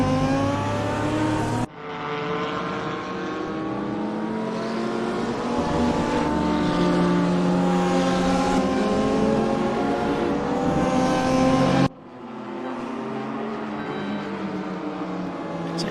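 Racing cars on track in a sim racing session with GT4 cars, including a Lotus and an Audi, give a continuous loud engine drone with rising and falling revs and brief cuts between shots.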